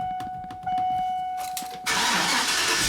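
A Chevy/GMC truck engine starts up: a high whine and rapid starter chatter for about two seconds, then the engine catches and settles into a loud, broadband running roar.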